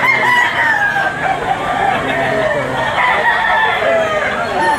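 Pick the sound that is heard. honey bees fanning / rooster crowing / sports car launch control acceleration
rooster crowing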